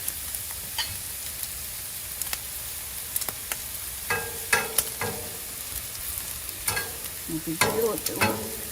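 Mushrooms sizzle and fry on a Blackstone flat-top griddle, a steady crackle broken by close scraping and clacking as a spatula stirs them, with no talking.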